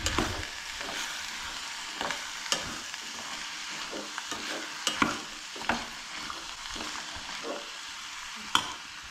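Tomatoes stirred into a Goan cowpeas and drumstick bhaji, a soft continuous sizzle from the pan with scattered scraping taps of a spoon against the vessel, steady and close with no voices.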